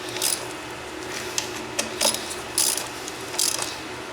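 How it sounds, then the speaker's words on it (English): A hand ratchet snugs the bolts on the aluminum swing arm and sprocket carrier of a Yamaha Raptor 700R, with four short, close bursts of fast clicking separated by brief pauses and no talk. "I'll get them where I want them with my ratchet."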